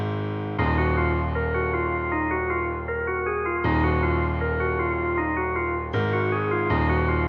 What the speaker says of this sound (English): I'm gonna layer the drums with a simple piano melody with two FL Keys presets.